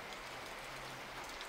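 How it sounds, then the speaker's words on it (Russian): Rain falling in the video game BarnYard, a soft steady hiss of a heavy downpour that is faint and continuous, with no voices. "Что в этой игре существует дождь?"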